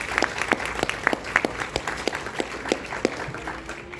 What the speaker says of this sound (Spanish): Fuertes palmas, por favor, para Daisy Saravia.